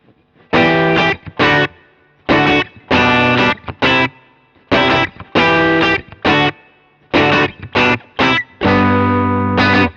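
Loud electric guitar chords with added distortion strike in short rhythmic bursts, with brief gaps between groups of strums and a longer ringing chord at the end.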